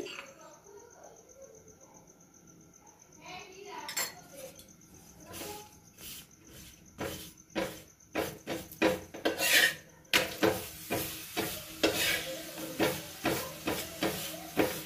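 Tomato paratha sizzling in oil in a pan, with rhythmic scraping and rasping strokes of a spatula that grow louder and more frequent, crackling frying noise underneath.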